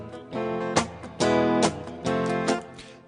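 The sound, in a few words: guitar strumming with muted dead strokes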